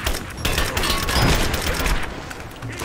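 An explosion in Rise of the Tomb Raider that kills enemy soldiers, heard as a loud rumbling blast amid a flurry of gunfire bursts, with the roar swelling in the middle and then thinning out.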